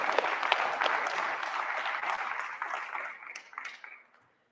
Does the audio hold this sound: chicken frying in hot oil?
no